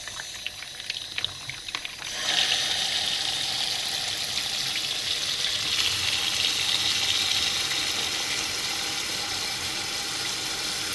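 After a quiet start, a steady rushing stream of water pours into a large container, loud and continuous for several seconds.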